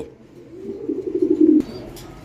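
A pigeon coos in a low, rising, throaty phrase close by, swelling over about a second before a brief sharp knock cuts it off.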